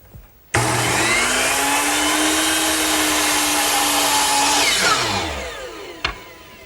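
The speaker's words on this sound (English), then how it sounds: "the oak banding that goes around the countertop is mitered at the corners, and that's best done here at my power miter box" A power miter saw spins up and cuts oak banding at a 45-degree angle, a loud, sustained whine through the cut that then winds down, followed by a sharp knock near the end.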